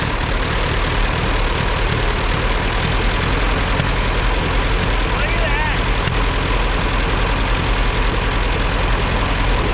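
An Allis Chalmers WD tractor engine runs steadily close up, a loud continuous low rumble with rough knocking texture throughout and no pauses.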